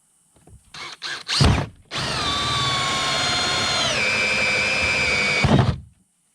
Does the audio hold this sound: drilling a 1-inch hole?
yes